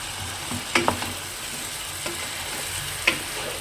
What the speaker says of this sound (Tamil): இந்த எண்ணெயிலேயே நம்ம அப்படியே நல்லா ஃப்ரை பண்ணி எடுப்போம்